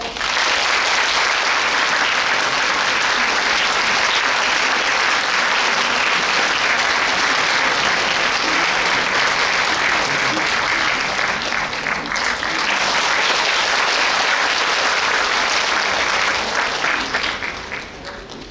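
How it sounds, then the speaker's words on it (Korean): A large audience at a book concert applauds an author coming onto the stage, a loud, dense, unbroken roar of clapping that holds for nearly twenty seconds before starting to thin. "노광규 작가님 무대 위로 모셔보겠습니다. 박수 주시죠"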